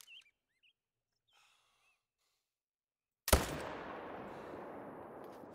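A single loud rifle shot from a .300 in the hunting video game Call of the Wild, preceded by faint bird calls and quiet ambience, with a long echoing tail after the blast.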